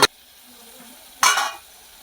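Onions frying and being stirred in a pan, with a short scrape of the spoon at the start and another brief stir-and-sizzle burst midway over a quiet steady hiss.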